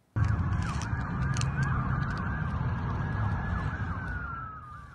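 Wailing emergency vehicle sirens from the massive police and ambulance response outside a mall after a shooting, several sweeping tones overlapping loudly and steadily over a rumbling background of traffic and engines, with no talk.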